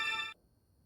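A phone in a video game rings with a bright, loud electronic trill for a brief moment before stopping abruptly.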